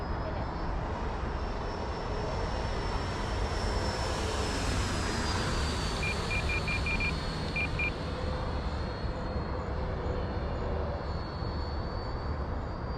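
A Freewing T-45 Goshawk 90mm electric ducted-fan RC jet flies at part throttle with a steady, loud whooshing roar and a faint high whine, while a short series of beeps sounds partway through.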